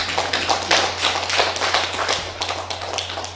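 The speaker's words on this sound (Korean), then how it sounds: "축하의 큰 박수 부탁드립니다." Applause at a poetry recitation contest award ceremony, a lively burst of many hands clapping close by in uneven waves, with a steady low hum underneath and no talking.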